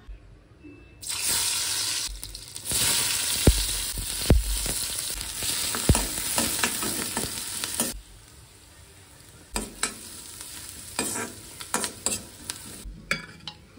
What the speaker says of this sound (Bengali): তো ফোড়নে দেবো আজকে শুধু হচ্ছে পেঁয়াজ আর রসুন